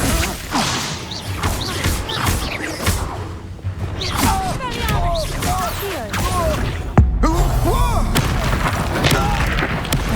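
Fiery Confringo blasting spells and a Glacius spell cast in combat in Hogwarts Legacy, with booming impacts and whooshing bursts amid constant loud battle noise, and a voice shouting over the fray.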